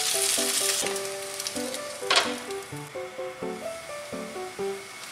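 French toast frying in a pan and being flipped, a loud steady sizzle with a sharp burst at the turn, while a melodic tune plays underneath.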